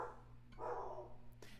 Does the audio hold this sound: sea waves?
no